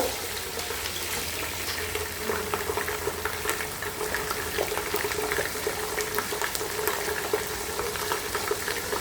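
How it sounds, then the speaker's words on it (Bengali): Onions frying in hot oil as ginger-garlic paste goes into the pan for a chicken bhuna khichuri, a steady dense sizzle with faint stirring scrapes, close and continuous throughout. "পেঁয়াজটা একটু লাল করে ভেজে নিছি। এখন দিয়ে দিব আদা রসুন বাটা"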